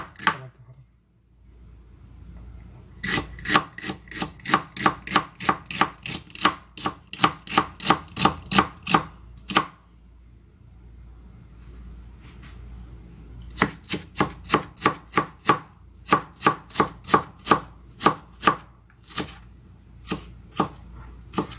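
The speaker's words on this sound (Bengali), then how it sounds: "পেঁয়াজগুলো এভাবে কুচি কুচি করে নিয়ে কাটতে হবে।" A knife chops onions finely on a board in two long, fast, steady runs of crisp, evenly spaced strikes, close and clear, separated by a short quiet pause with no talking.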